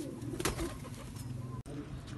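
Breeder pigeons cooing close by in a loft, low throaty coos repeating in a soft rolling rhythm, with other bird sounds mixed in.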